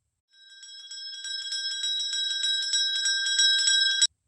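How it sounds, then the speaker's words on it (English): A bell in a children's learning game rings in a rapid, bright trill of repeated strikes, loud and close, sounding alone for about four seconds before stopping abruptly. "A bell sounds like this."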